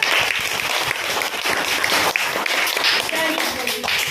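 Young children in a second-grade classroom clap together during a calendar lesson, a loud, busy patter of small hands that continues for several seconds with voices mixed in.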